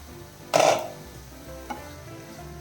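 Bitter gourd frying in a pan is stirred to dry it out over the heat: a loud scraping stir near the start, then a low steady sizzle with a couple of brief lighter scrapes.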